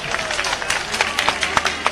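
Enthusiastic applause from party workers welcoming young MLAs at a Congress gathering where Jitu Patwari takes charge, with dense clapping and crowd noise throughout, sharp claps popping out above the steady roar.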